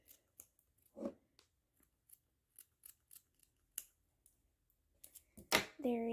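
Scissors snip fabric for a Barbie doll dress in a series of quiet, separate crisp cuts, followed by a brief voice and louder handling at the end.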